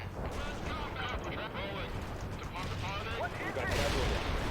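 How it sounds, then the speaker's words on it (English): A laser-guided bomb strikes in the World in Conflict war game amid rumbling artillery and gunfire, with a radio-style voice talking over the battle before a heavy, swelling blast near the end. "Use a laser guided bomb for this last one."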